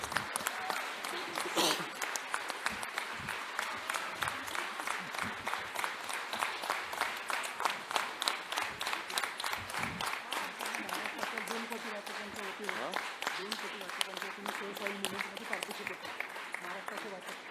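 Audience at a Pune Save the Soil gathering claps in a sustained standing ovation, the clapping settling into a rhythmic, near-unison beat, with voices audible beneath the applause.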